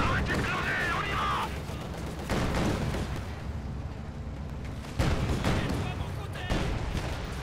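Battlefield gunfire in Company of Heroes 2 during the Battle of Brody tank fight, with repeated shots, heavy booms and rumbling blasts under excited speech in the game.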